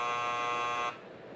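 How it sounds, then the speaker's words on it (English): A loud electronic buzzer at a baseball ballpark blares steadily for about a second, then cuts off abruptly, leaving faint background noise. "Fans love that buzzer and bell, too."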